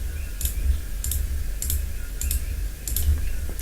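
A computer mouse clicks over and over in a steady rhythm, roughly every 0.65 seconds, with sharp close clicks over a low background hum while circles are selected in Autodesk Inventor CAD software.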